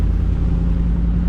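Steady low engine rumble from inside a moving truck at a 2-gun shooting match, loud and continuous with no talk, cutting off abruptly at the end.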